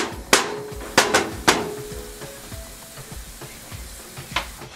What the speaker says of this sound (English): I'm going to let this cook for about 2 minutes into the oil and into the onion itself